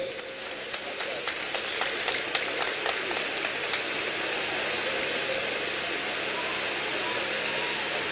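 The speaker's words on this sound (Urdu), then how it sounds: "کم سے کم وہ لوگ تو تالیاں بجا ہی سکتے ہیں جنہوں نے انعام حاصل کیے ہیں" An audience at a prize-giving ceremony claps for the winners, a dense patter of many hands that starts with a few sharper claps and settles into steady, fairly distant applause.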